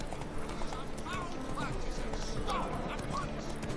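Horse hooves clip-clopping at a steady walk in The Witcher 3, a continuous moderate rhythm under background game sounds and chatter.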